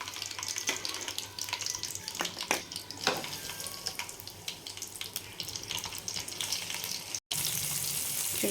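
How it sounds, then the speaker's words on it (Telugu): Mustard seeds, cumin and garlic frying in hot oil for rasam give a steady crackling sizzle scattered with sharp pops. It runs close and continuous, breaking off briefly with a cut near the end. "చూడండి ఇది బాగా వేగిపోతుంది కదా"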